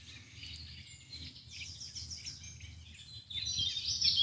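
Birds chirp and sing with quick, high twittering phrases near reeds, moderately close, over a faint low background hum, with no voices.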